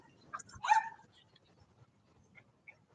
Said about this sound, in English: It's going to be noisy no matter what, though, because Princess just likes to bark.